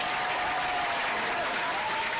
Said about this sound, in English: That deserves a hand clap right there.